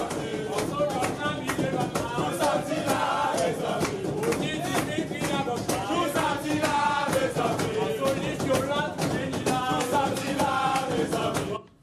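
Football players celebrate a victory in a Marie-Galante locker room, loud rhythmic chanting and shouting from a packed group with clapping beats, close and energetic throughout.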